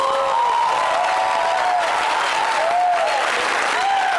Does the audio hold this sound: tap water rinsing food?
no